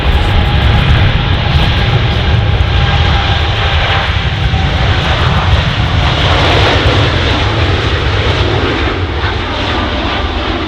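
Boeing Dreamliner jet at Manchester Airport giving a loud, steady engine roar that holds for the whole stretch, with a broad rumbling low end and a hissing jet whine on top.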